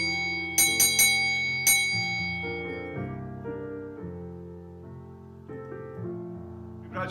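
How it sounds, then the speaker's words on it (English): A bell is rung several times in quick succession for an officers' inauguration, bright clear strikes whose ringing tones sustain and decay under a steady background of musical tones. "let's ring the bell"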